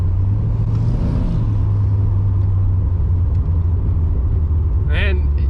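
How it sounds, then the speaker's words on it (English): An LS-swapped 1988 Firebird holds a steady, loud low engine drone through a burnout on a freshly installed posi rear end, with voices cheering over it. "Burn both them tires, baby."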